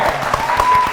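Studio audience applause on an Indonesian Ramadan quiz show, a brief steady wash of clapping with a faint tone running beneath it.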